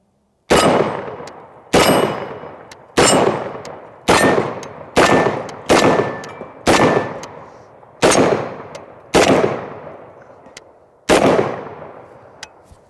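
Ten heavy single blasts from a Kalashnikov USA KS-12 12 gauge semi-automatic shotgun, loud and close outdoors, each shot ringing out in an uneven rhythm with a decaying echo between.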